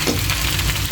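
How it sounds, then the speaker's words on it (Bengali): Chowmein ingredients frying and being stirred in a hot pan, a dense continuous sizzle with scraping from the stirring, close and loud throughout. "সবগুলো উপকরণ দিয়ে আবার ভেজে নিতে হবে"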